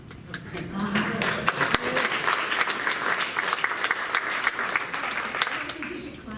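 An audience applauds at a panel event, a sustained round of dense clapping at moderate volume that holds steady throughout, with a voice faintly mixed in underneath.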